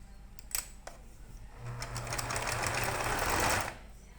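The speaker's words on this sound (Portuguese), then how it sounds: "passar uma costura de cima a baixo" A sewing machine stitches a seam on a fabric backpack, with a couple of clicks before a fast, steady whirring run of about two seconds that stops abruptly, fairly close.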